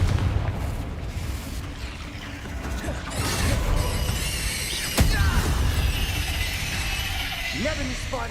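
A Confringo blast spell explodes in Hogwarts Legacy, a sharp loud burst cutting through dense game combat noise and music, with other spell impacts and rumbles around it.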